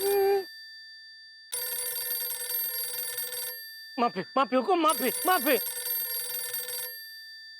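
A telephone rings in a Hindi TV comedy scene, with loud repeated electronic ring bursts. Someone speaks briefly between the rings.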